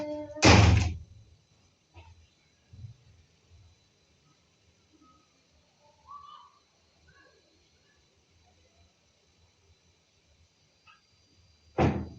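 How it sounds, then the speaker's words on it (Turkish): A knock at a door sounds twice, once as a loud cluster of raps at the start and again at the very end, with faint handling thuds and small noises in the quiet stretch between. "kusura bakmayın kapı çaldı"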